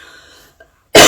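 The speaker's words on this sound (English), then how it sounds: "From this morning, I started developing a cough." A single loud, harsh cough breaks out from a person sick with Covid-19, following a faint throat sound and a brief quiet pause.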